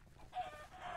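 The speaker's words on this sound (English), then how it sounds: "Get them chickens going." Chickens clucking in Minecraft, a faint short burst of bird-like clucks lasting about a second, with no talk over it.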